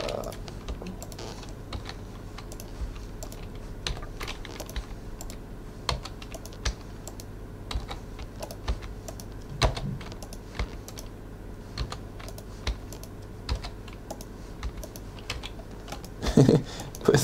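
Steady typing on a computer keyboard, with irregular clusters of sharp, close key clicks running throughout over a low background hum, and a few louder clatters near the end.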